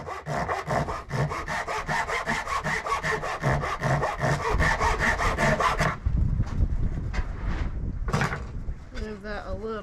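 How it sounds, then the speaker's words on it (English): A handsaw cuts a square end off a wooden bilge stringer clamped in a vise, rapid regular back-and-forth strokes for about six seconds, close and loud, followed by a few scraping sounds and brief knocks as the work is handled. "Just gonna make a nice square cut off the end."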